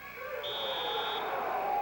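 At the end of a period in a 1996 high school wrestling match, a loud, sustained electronic buzzer drones steadily. It sounds over the arena's background noise.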